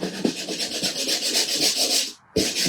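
Steady, gritty rubbing of a sanding block scraping paint off an edge, continuous back-and-forth strokes up close, with a brief pause near the end before resuming.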